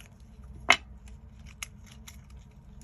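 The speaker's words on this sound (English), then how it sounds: "Cut this into a square." Scissors make a single quick snip through a paper scrap while a square is cut for a shabby chic cluster craft, with a faint tick or two afterward over a low steady background hum.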